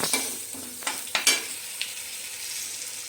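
Fenugreek powder and a broken dried red chili frying in oil as a tempering for gongura pulihora pickle, a steady sizzle with a few sharp crackles and utensil taps, close by, with no talking.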